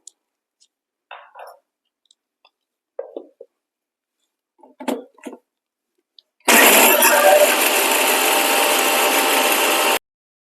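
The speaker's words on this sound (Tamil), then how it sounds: "கூடவே தேங்காவையும் சேர்த்து நல்ல பேஸ்ட் மாதிரி அரைச்சி எடுத்துக்கலாம்." A mixer grinder whirs loudly for several seconds after a few light clinks and knocks, grinding nuts and coconut into a paste, running steadily before cutting off abruptly.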